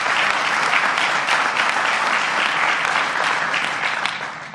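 Sustained applause fills a press conference hall, a dense, loud wash of many hands clapping that holds steady and then begins to fade at the end.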